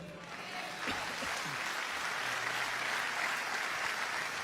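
A church congregation applauds, a dense, moderately distant patter of many hands clapping that swells after the first second and holds steady to the end.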